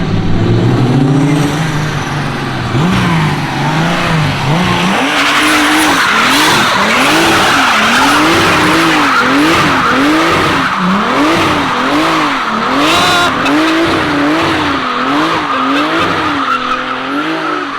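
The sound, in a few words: BMW E36 wagon wheelspin with tires squealing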